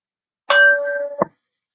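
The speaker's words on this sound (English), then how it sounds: "So let's just ring our bell" Single small hand bell struck once to open a card reading, giving a bright ringing tone that sustains for under a second before a second brief clang cuts it off; close and clear with no talk.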